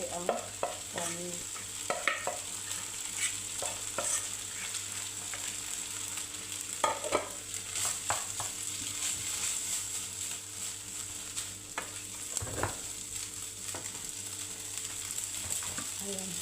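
Cooked rice stir-fried in a little oil for Chinese chao fan, a steady soft sizzle broken by scraping and stirring strokes of a spatula in the pan, fairly quiet throughout.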